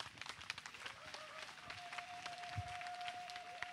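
Church congregation clapping for the Lord in a fairly faint, steady patter of many hands, with a sustained tone running underneath.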